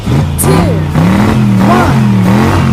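Cartoon monster trucks rev their engines at the start line of a race, with a droning, wavering engine tone rising and falling under a voice speaking.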